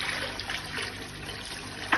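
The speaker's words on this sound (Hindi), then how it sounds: "इसमें पानी डाल देते हैं" Water poured into a kadhai to boil rice for Hyderabadi beef biryani gives a continuous close splashing trickle, with a brief sharper splash near the end.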